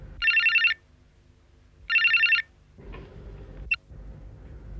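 A telephone rings indoors in two loud, trilling electronic bursts about two seconds apart. Quieter clattering follows the rings, with no talk over them.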